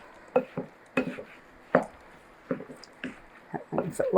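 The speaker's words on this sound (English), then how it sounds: "So now we're going to mix that up" Macaroni and cheese meatloaf casserole being mixed with sauce, giving soft squishy stirring and scraping bursts at an uneven rhythm, close up, with brief talk in between.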